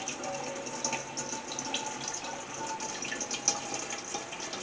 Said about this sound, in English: I'm going to pour that in there